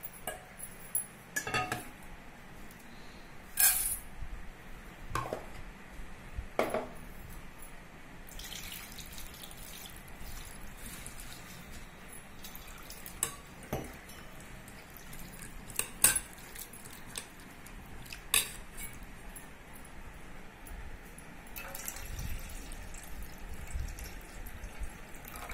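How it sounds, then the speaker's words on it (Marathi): Poha (flattened rice) being washed in a bowl, soft water sloshing and dripping with occasional clinks of the bowl and utensils, several scattered splashes over a quiet background, no speech. "दुसऱ्या बाउल मधले पोहे पण आपण याच पद्धतीने धुवून घेणार।"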